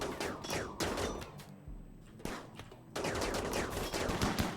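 Chain shotguns fire in RimWorld in rapid, loud volleys of crackling blasts, with a dense burst, a brief lull, then another sustained barrage of overlapping shots.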